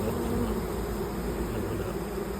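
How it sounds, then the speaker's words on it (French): Honeybees from a swarm buzz steadily around a hive, a dense continuous hum, close and fairly soft, with no voices. "il y a encore des abeilles qui volent."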